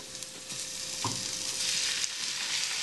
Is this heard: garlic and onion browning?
yes